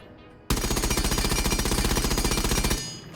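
An FMG9 submachine gun in Rainbow Six Siege fires one long sustained full-auto burst, loud and close, with rapid even rhythm cutting off cleanly after about two and a half seconds.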